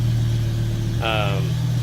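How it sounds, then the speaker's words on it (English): A BMW E60 M5 engine idles with a low steady drone, then a brief rising exhaust rasp swells near the end, close and continuous. "now you get the sound of the exhaust"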